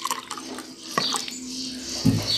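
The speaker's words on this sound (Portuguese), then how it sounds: "Vou colocar aqui a água." Water is poured into a container of freshly made orange juice in a home kitchen, a short splashing pour with a few light clinks and no talking.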